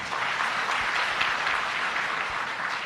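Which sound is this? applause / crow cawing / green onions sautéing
applause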